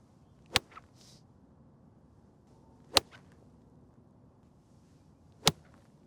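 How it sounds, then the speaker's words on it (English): Three sharp, crisp golf iron strikes on a ball spaced a few seconds apart, each a short solid, muted impact without a click, with quiet background between them. "a demonstration of the more muted or solid sound and feel instead of the click"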